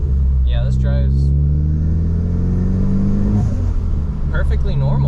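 A car tuned with ChatGPT's advice drives along with a low, steady engine rumble and a rising note, heard close under someone talking.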